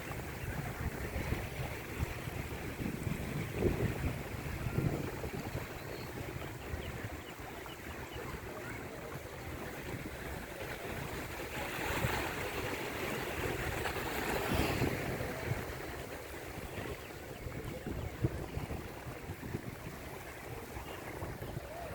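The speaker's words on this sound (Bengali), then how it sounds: "অনেক দূর চলে গেছে অনেক দূর প্রচণ্ড ঢেউ" Strong sea waves at Patenga beach, Chittagong, a continuous broad roar of surf mixed with gusting wind buffeting the microphone, steady and enveloping with no talking.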